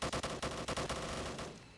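Aircraft guns in the video game Roblox Military Tycoon fire a rapid stream of evenly spaced shots, loud and sustained, then trail off into a fading roar.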